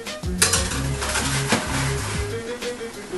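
A metal baking tray holding shrink plastic earring pieces clatters as it slides into an oven, close metallic knocks and scrapes over a low hum with ringing tones, no talking.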